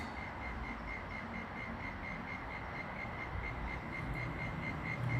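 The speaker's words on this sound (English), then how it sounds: "And hear those crickets? Get used to that sound" Crickets chirp in a faint, continuous night chorus, a thin high trill pulsing steadily over a soft background hum with no voices.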